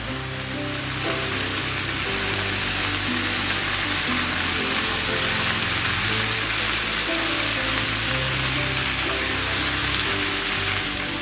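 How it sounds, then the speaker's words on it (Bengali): Mixed vegetables sizzle and fry steadily in an open, uncovered pan, cooked Bangladeshi Chinese-restaurant style; a dense, continuous crackling hiss with no voices, holding even loudness throughout. "আমি এইভাবে ঢাকনা ছাড়া রান্না করে নিচ্ছি"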